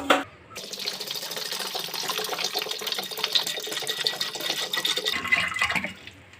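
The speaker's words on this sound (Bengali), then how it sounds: "আমরা এটা মটরটা ডুবে যাওয়ার মতো জলটা দিলাম" Water is poured steadily into a pot of soaked dried peas for ghugni, a continuous splashing, gurgling fill heard up close for about five seconds, with a few clinks at the start and end.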